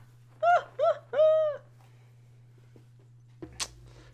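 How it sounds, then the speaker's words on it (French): A pet parakeet in a room lets out three short, clear chirping calls in quick succession, close and fairly loud over a steady low hum, followed by a pause and a brief burst of scratchy noise. "Je stream avec un oiseau."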